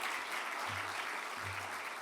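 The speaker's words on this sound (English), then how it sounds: "Can we have another round of applause for Secretary Warmuth and your National Press Club President," Audience applause at a National Press Club presidential inauguration dinner, a sustained, even patter of many hands clapping throughout, with a faint low hum beneath.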